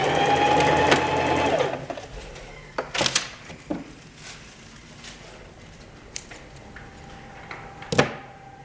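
A home sewing machine stitching fabric along the curved edge of a face mask, a steady mechanical whir at first that stops, followed by scattered handling clicks, fabric rustles and a sharp knock near the end.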